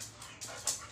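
Six-week-old Rottweiler puppies pant softly up close, with faint whimpering sounds.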